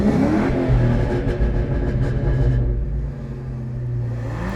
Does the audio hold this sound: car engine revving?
yes